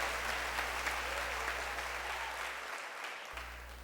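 A church congregation applauds in praise during a service: a steady, moderately loud wash of clapping from many people, with a low steady hum underneath and no talk.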